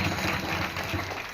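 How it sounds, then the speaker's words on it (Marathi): A kirtan audience claps together in a dense, steady burst of applause that fills the short moment without pause. "सर्वांनी गोड टाळ्या वाजवा"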